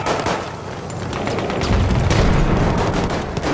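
A grenade blast and gunfire in the Battlefield 1 video game roll out as a dense, continuous barrage of booms and rapid shots, loud and close.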